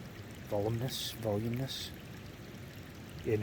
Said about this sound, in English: Tremendous amount of water coming out of there